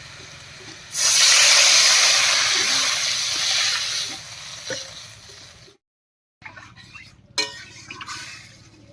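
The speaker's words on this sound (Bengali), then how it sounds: "এবারে ঝোলের জন্য জল দেবে" Water poured into a hot pan of rohu fish curry with fried potatoes and spice paste sets off a loud, close steamy hiss for several seconds that gradually fades, followed by a few faint utensil clinks.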